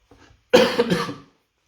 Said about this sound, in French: excusez-moi, je tousse un peu, c'est la saison